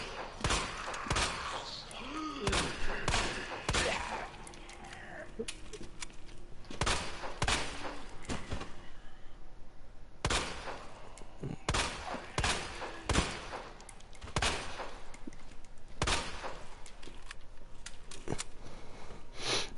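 Handgun gunfire in the video game Resident Evil 2 Remake: a long series of sharp, close pistol shots at irregular intervals, each a crisp crack with a brief tail, spread across the whole stretch.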